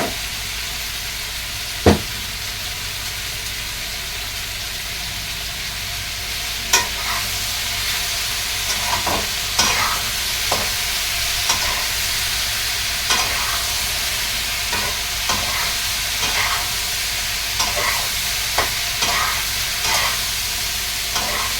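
Capsicum frying in ghee in a hot pan, a loud steady sizzle broken by repeated scraping and clinks of a spatula as the pieces are stirred, with one sharp knock near the start and no talk.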